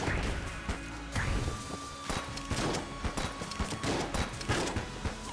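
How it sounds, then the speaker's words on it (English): Rapid gunfire from the Enter the Gungeon video game, dense bursts of shots layered over game music and clattering effects, steady and loud throughout. "Why am I shooting so slow now?"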